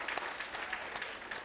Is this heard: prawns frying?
no